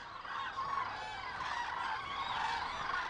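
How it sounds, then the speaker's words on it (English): A dense flock of cranes gathered on the shores of Lake Hula call continuously, layered honking and trumpeting voices blending into a steady, distant chorus with no pauses. "Tens of thousands of cranes gather on the lake's shores, heading for Europe."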